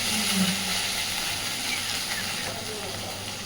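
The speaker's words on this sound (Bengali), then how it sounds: "তাই একটু সময় নিয়ে মশলাটাকে সুন্দরভাবে ভাজতে থাকবে" Spice paste for stingray curry frying in a pan, a steady broadband sizzle and hiss that holds evenly throughout and fades slightly toward the end.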